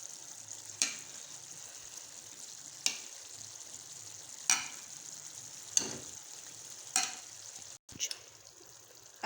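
Fried eggs sizzle in a pan of ketchup gravy, a steady hiss broken by several sharp scraping stirs of a spoon at regular intervals.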